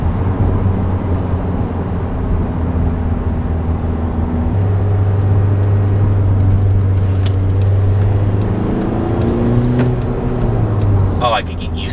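A 2014 Volkswagen Jetta TDI Premium with a DSG gearbox drives through curves, its steady engine drone and road noise running loud and continuous throughout while a driver talks over it.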